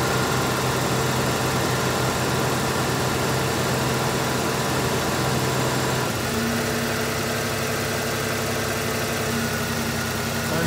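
A second-generation Toyota 4Runner's AC compressor and condenser cooling fan run steadily, giving a continuous close engine hum and whir whose tone shifts partway through as the compressor cycles.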